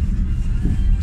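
A Porsche car passing near a bridge over the Main river, a steady low engine rumble and road roar held throughout the short moment, fairly close and loud.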